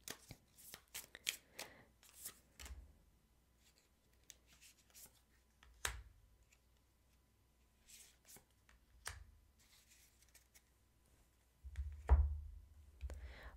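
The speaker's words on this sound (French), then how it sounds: "on va commencer à choisir les cartes" Tarot cards shuffled and handled during a reading: a run of crisp riffling and flicking bursts at the start, then sparse taps and slaps of cards spaced out, ending in a louder thump; no talking.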